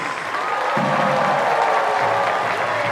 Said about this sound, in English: Keep your applause going for all of the 5th graders.